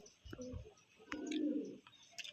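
Pigeons in a Bagnan hobbyist's loft, including Andra-type birds, give soft low coos, one longer rolling coo in the middle, with faint chirps and a brief vocal sound nearby.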